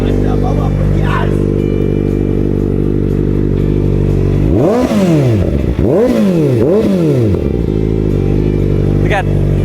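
A borrowed motorbike engine drones loudly and steadily, then revs up and down in several quick swells, close up with clattering noise and a faint voice behind it.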